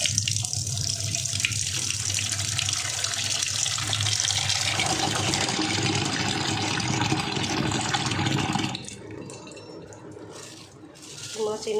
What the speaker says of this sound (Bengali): তো চলো ঝটপট মাছগুলো ধুয়ে নিয়ে তারপরে দেখি